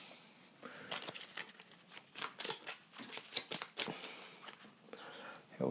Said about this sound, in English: Shuffle the encounter deck.